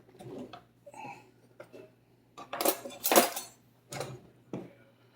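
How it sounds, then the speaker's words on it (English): A spoon stirs garlic butter chicken sauce in a pan, giving scattered metallic scrapes and clinks against the pan in short bursts separated by quiet gaps. "let me stir this in and we're getting ready. And let me get a spoon here"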